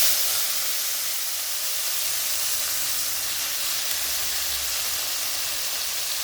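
Fish dropped into hot mustard oil in a kadai gives a steady, close hiss of sizzling that holds evenly throughout, with no voices.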